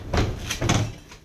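A kitchen drawer slides and bumps in two or three short scraping knocks, close by, with no talking over it.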